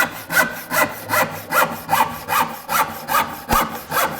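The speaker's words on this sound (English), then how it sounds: "I will lay the saw down into the kerf and nibble away, and once again create a nice long kerf," A hand saw rip-cuts a rough wood board in steady back-and-forth strokes, about two per second, each a close, loud rasping push with no talk.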